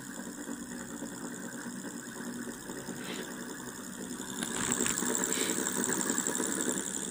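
A dual axial flux motor spins at about 28 volts, giving a steady mechanical hum and whir with faint ticking, growing a little louder partway through and running continuously without talk.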